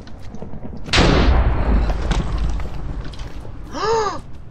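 Lightning strike in the Minecraft Aether mod: a sudden loud crackling boom bursts in and rumbles on for a couple of seconds, followed by a brief warbling electronic tone near the end, with no talk.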